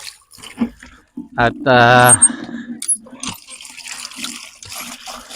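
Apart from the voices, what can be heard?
fetching water, water being poured into a container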